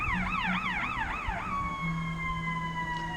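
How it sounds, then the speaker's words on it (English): A wailing ambulance siren rises and falls rapidly, then settles into a steady tone, heard from moderately close amid traffic rumble. "full of ambulances and fire trucks all day long."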